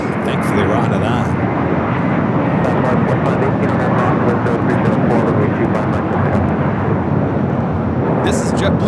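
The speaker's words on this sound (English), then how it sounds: "This is JetBlue 1700 taking off to Fort Lauderdale on the A321 Imperial Girl." A JetBlue Airbus A321 takes off at Los Angeles International Airport bound for Fort Lauderdale, its engines producing a loud, continuous, broadband roar that stays powerful from start to finish.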